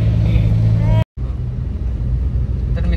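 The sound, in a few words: car driving off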